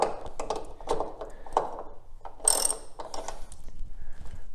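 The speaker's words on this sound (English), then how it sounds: "The first thing we need to do is remove the nuts that hold the brake reservoir tank over here in position." A ratchet loosens the 10mm nuts holding the brake reservoir tank on a 2018 Ford Fiesta ST, giving quick close bursts of clicking with short pauses between strokes and no talking.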